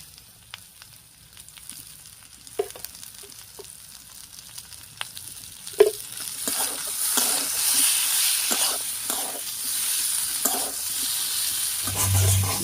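Potato and pointed gourd frying in ghee in a pan for a Bengali curry, a soft continuous sizzle that swells midway, with occasional stirring scrapes and clinks.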